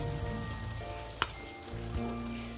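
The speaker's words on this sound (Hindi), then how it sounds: "अब हम इसमें प्याज और दही का जो हमने पेस्ट बनाया था वो ऐड करेंगे" An onion and yogurt paste goes into cooked tomatoes for chicken kofta and sizzles softly in the pan, with a brief clatter partway through; no talking.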